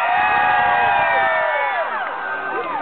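Concert crowd at Busch Gardens cheering and whooping between songs, a loud, sustained roar of many voices with high shouts rising and falling, tapering slightly toward the end.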